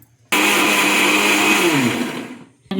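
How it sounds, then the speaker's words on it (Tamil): An electric mixer grinder whirs loudly as it blends onion, mint, coriander and tomato into a paste for chickpea biryani, starting abruptly, running steady for about two seconds, then winding down. "இப்போ அதை அரைச்சிட்டு வந்துடலாம்"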